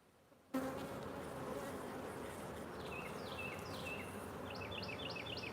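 Honey bees buzzing steadily close by as a hive in the yard is opened and inspected, a dense continuous drone with occasional higher whines from individual bees flying past.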